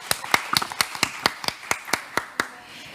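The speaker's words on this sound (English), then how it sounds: "Another big round of applause" A small conference audience at an international broadcasting and communications event gives a brief round of applause: a dozen or so distinct, sparse claps in an irregular rhythm, fairly close and fading out after a couple of seconds.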